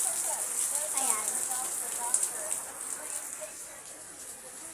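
Rain falls steadily outdoors in a continuous, even hiss of drops, with faint indistinct voices in the background.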